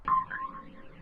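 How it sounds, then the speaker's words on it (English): Short melodic pluck one-shot from the Intention kit, a single bright plucked tone with a quick attack and a wavering, slightly harsh decay, faint and alone. "Next thing I added was this melodic pluck."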